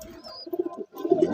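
Pigeons cooing close by in a loft, low throaty rolling coos with a brief break in the middle.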